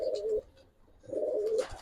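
Giribaz pigeons in a loft give two drawn-out, throaty coos close by, separated by a short pause.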